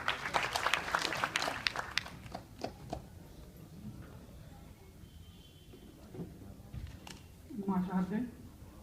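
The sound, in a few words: audience applause for poet Ashutosh Dwivedi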